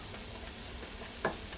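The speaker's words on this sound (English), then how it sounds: "You can hear them sizzling, so my pan is hot." Chopped onions sizzle in a hot pan over medium-high heat, a soft, steady hiss with one brief stirring clatter near the end.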